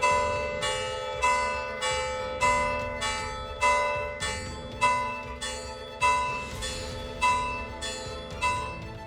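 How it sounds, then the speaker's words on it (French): A church bell rings the tocsin alarm at a steady, insistent pace, about a dozen resonant strokes, each decaying before the next, loud and alone. "À l'église Sainte-Libère, le tocsin sonne sans répit."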